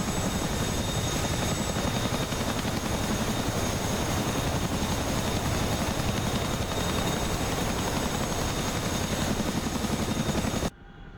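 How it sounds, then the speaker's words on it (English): Heavy, steady CH-47F Chinook helicopter rotor thumping in a flight-simulator game, with a dense engine roar, loud and continuous, cutting off abruptly at the end. "listen to this beautiful helicopter here."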